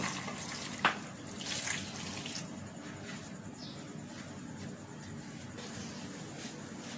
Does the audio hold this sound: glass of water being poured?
yes